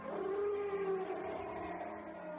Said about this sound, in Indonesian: raungan harimau di batas pagar gaib kita